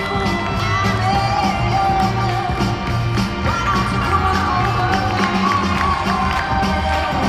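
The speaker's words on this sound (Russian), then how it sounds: "Екатерина Попова, ваши аплодисменты." At a professional ballroom show dance performance, a large audience cheers and applauds steadily over loud music, with whoops and shouts rising from the crowd throughout.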